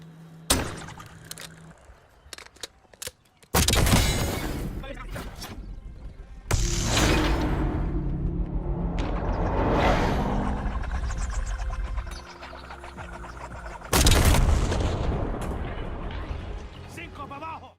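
A grenade launcher firing a fadeaway shot in the video game Black Ops 6 on the Haven map, with a loud launch blast followed by rumbling explosions and game noise, under a voice talking.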